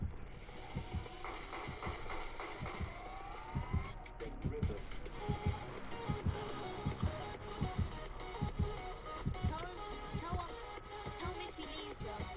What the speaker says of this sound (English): I keep on hearing a heartbeat.